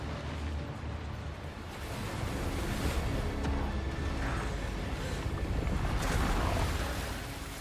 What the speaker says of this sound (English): The storm's too strong.